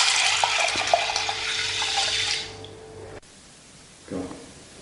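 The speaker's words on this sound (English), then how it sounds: "Add the aduki beans and the water." Aduki beans and water pour into a saucepan holding kombu, a steady rushing splash that runs for a few seconds and then stops, followed by a brief softer stir or clink.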